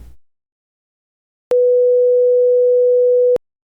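A steady pure sine tone at 494 Hz, lower in pitch, plays alone and loud for just under two seconds, switching on and off sharply with silence around it.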